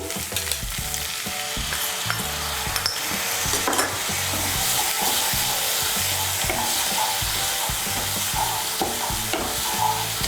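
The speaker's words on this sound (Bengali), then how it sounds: "গুঁড়ো মশলাগুলোকেও তেলের সঙ্গে মিশিয়ে নেব।" A paste of cumin and coriander powders fries in hot oil for a soybean and eggplant curry, with a loud, continuous sizzle and steady stirring scrapes throughout, close up and without any speech.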